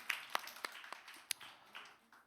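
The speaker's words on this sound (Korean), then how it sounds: "잘했다고 우리 박수 부탁드립니다." Scattered, faint clapping from a church young adults' worship audience applauding a drama team, a thin patter of a few hands rather than full applause.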